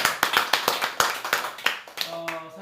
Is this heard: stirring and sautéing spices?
no